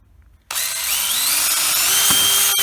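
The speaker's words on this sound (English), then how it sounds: "I am just going to pre-drill some holes in the center" A power drill starts abruptly and whines at close range, its pitch climbing slightly as it bores pilot holes into a wooden box frame for a motorized bumper car restoration, running continuously for about two seconds.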